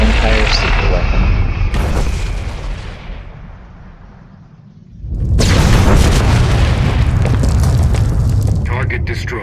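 A super weapon detonates in a Star Wars space combat game, with a heavy, sustained rumbling blast that fades into a near-silent lull, then a second loud roaring surge of explosion and debris noise under radio-style voices.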